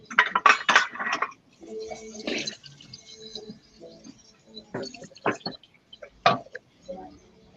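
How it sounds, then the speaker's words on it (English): Dishes being washed by hand: pots, pans and cutlery clink and clatter in irregular bursts with trickling water between them, fairly close, while a person talks intermittently. "can you hear me washing the dishes?"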